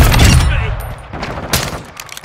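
Loud, dense gunfire in a shoot house hardpoint match in a video game, opening with a heavy burst of shots and then continuing as scattered, fading reports and impacts.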